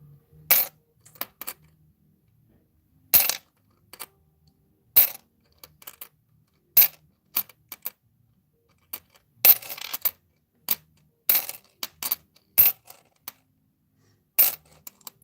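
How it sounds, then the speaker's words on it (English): Coins drop one after another into a piggy bank, giving sharp metallic clinks in irregular bursts with short pauses between, near and clear and without talk. "we're getting some nice coins in here today to go in the piggy."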